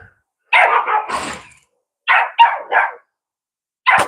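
A neighbour's dog barks from next door on a sunny day: a burst of three loud barks, a pause, then three more, with another starting at the end, alone without talk.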